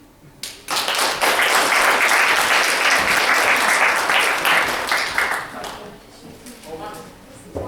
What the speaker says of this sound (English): One more round of applause for our